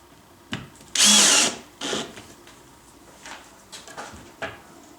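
A power drill drives small screws into floating shelf hardware, with one loud sustained whir followed by a few shorter bursts and clicks. The drill sounds close, and no one speaks.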